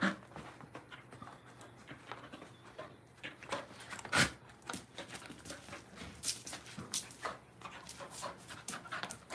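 A dog pants close by in rapid, uneven bursts that continue throughout, mixed with soft pattering and occasional sharper clicks and thumps of movement.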